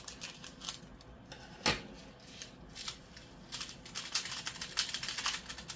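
Scissors snipping open a small plastic bag of diamond painting drills, a few crisp close cuts and crinkles, with a denser burst of snipping near the end and no talk.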